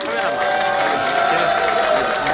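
An audience at a Bareun Party campaign launch rally applauds to welcome the Incheon chapter chair, making a dense, steady wash of clapping and crowd noise throughout.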